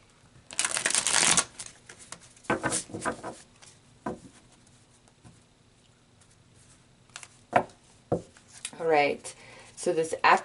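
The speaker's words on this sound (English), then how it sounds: "let's pull some tarot cards and get some more information" Tarot cards are shuffled in a long riffle, followed by scattered card flicks, slaps and taps nearby, with a brief, faint voice near the end.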